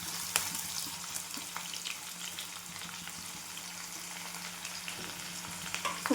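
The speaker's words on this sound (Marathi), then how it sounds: "आणि छान आपल्याला परतून घ्यायचं आहे तेलामध्ये" Sliced onion frying in oil with mustard seeds, cumin and curry leaves, a soft even sizzle heard up close at low volume, with occasional light stirring taps and no speech.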